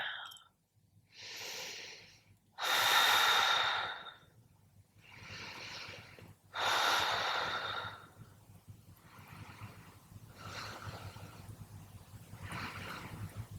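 Slow, deep breaths drawn in and out through the nose while holding a yoga pose, several long airy inhales and exhales in steady rhythm, close and fairly soft.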